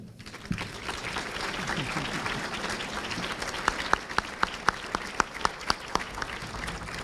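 An audience at a college gala breaks into sustained, even applause that builds steadily, with a few sharp louder claps near the end.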